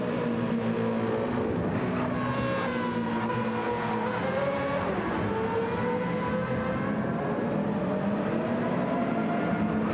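Race cars including a Toyota Supra roar through a sim racing game, a dense continuous engine drone with shifting pitch as several cars run close together, loud and steady throughout.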